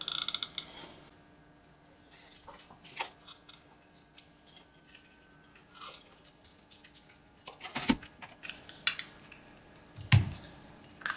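Scissors trimming a lace ruffle on a handmade ring-bound journal, heard as scattered soft snips, creaks and small clicks, close and quiet, with a couple of sharper louder cuts near the end.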